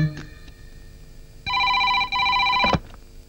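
A telephone rings after a number is redialed: two close, bright electronic ring bursts, one right after the other, following a few faint clicks and near silence.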